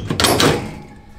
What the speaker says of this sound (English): the doors will just pop off like this